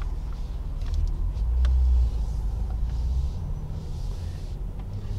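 A 2017 Mercedes-Benz E400 wagon with a 329-horsepower six-cylinder engine drives along the road, a steady low rumble of engine and tires heard from inside the cabin, swelling slightly then settling, with no talking.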